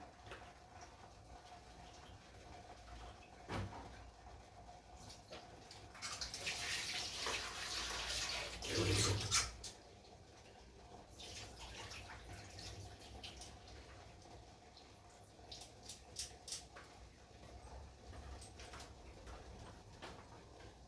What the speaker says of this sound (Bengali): আমি মাছটা একটু ধুয়ে নিয়ে আসি এখান থেকে